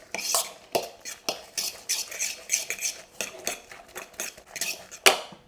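Chili powder and garam masala being mixed in a bowl: a rapid run of close, bright spoon clinks and scrapes against the bowl in an uneven stirring rhythm, ending with a sharper knock.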